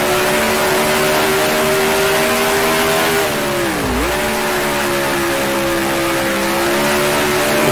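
A 1966 Formula 1 race car in Grand Prix Legends screams at high revs, then dips sharply in pitch as it blips down through the gears and climbs again, loud and steady with no talk.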